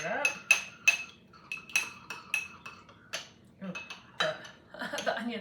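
A utensil clinks and scrapes inside a bowl while herb butter marinade is stirred for clay pot roasted chicken, a quick irregular run of close, light taps.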